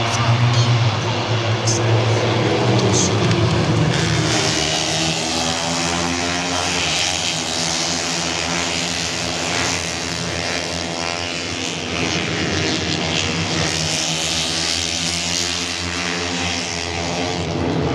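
125cc racing motorcycles at the MotoGP round at Le Mans, a dense continuous high-pitched engine whine from a pack passing close and loud, with crowd noise beneath.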